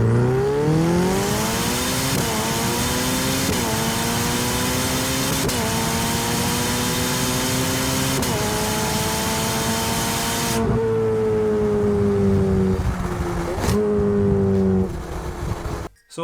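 A McLaren and a Pista sports car race along a road, loud high-revving engines climbing through repeated gear changes in rising whines, close and continuous, before dropping away abruptly at the end.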